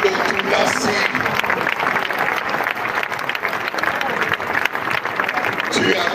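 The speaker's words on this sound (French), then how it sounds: "Tu acclames pour cette femme extraordinaire qui a été Maman Blanche, Odia Gandolo Toulassi." A crowd at a church gathering in the Democratic Republic of Congo applauds loudly and continuously, dense clapping with cheering voices mixed throughout.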